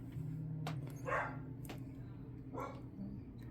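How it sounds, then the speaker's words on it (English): A dog barks a few times in the background of an indoor room, short muffled yelps spaced apart over a steady low hum. "And then there's the dog in the background."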